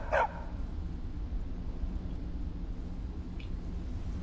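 A dog in the video game Skyrim gives one sharp, close bark at the start, followed by a faint short yip a few seconds later over a quiet, low game ambience.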